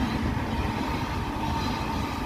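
An Indian Railways goods train rolls along the tracks close by, giving a steady loud rumble and rattle of wagons with no break, no voices heard.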